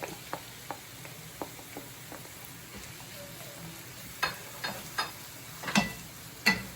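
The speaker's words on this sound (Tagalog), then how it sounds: "And then you can already add the garlic." Minced garlic added to a hot pan for Cajun adobo crabs, with a soft steady sizzle beneath a series of sharp clicks and taps, louder spatula or pan knocks near the end.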